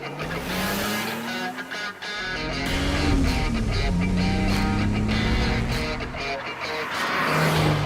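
A BMW Z3 roadster nicknamed Ruby drives past loudly, its engine note rising and falling through gear changes with steady road noise and a hint of tire squeal, a voice faintly underneath.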